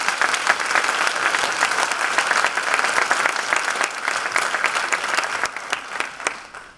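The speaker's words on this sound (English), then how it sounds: "Can we get a round of applause for this?" Audience at a high school commencement ceremony bursting into applause, a full crowd clapping steadily for several seconds before tapering off.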